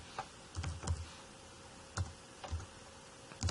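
Typing on a computer keyboard, a sparse run of close, crisp key clicks in small irregular bursts with short pauses between, no voices.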